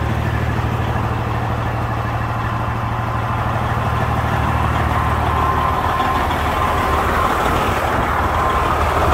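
A truck engine idles steadily through its exhaust muffler, a loud, continuous low rumble with an even throb that holds unchanged throughout, with no talking over it.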